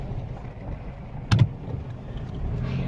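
A four-wheel drive vehicle crawls an off-road track, its engine a steady low rumble from inside the cab, with one brief louder knock or jolt partway through.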